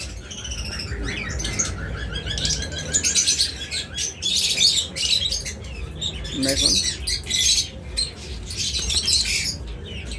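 A pair of par blue Fischer's lovebirds chirp and squawk in busy, overlapping bursts at close range, shrill calls coming in quick clusters over a low background hum.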